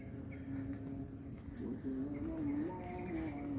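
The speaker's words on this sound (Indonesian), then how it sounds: "Masih ada suara jangkrik juga ini jam segini." Faint crickets chirp at dusk, after 6 pm, in a continuous high trill over a low droning hum, quiet and distant, by a man-made lake in Cilandak Barat, South Jakarta.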